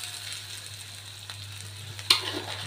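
Spicy seasoned chicken cooking in a pan and being stirred, with a low, steady sizzle and simmer close by and a single sharp scrape or clink partway through, no voices.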